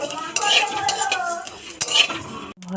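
Dried red chillies, coriander seeds, black pepper, cumin and fennel are dry-roasted in a pan and stirred with a metal utensil, making close scraping strokes and clinks in irregular bursts, with a faint sizzle beneath.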